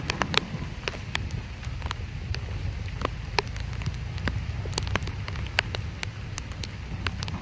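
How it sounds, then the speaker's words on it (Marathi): Rain falling on an umbrella outdoors, a steady patter with frequent sharp drop taps over a low rushing wash, close and continuous. "पाऊस पडतोय वरनं चष्म्यावर"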